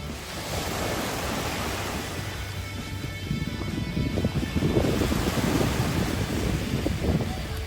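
Wind and surf roll steadily on a deserted beach, a constant broad wash with rising bursts of breaking waves in the second half, close and loud with no voices.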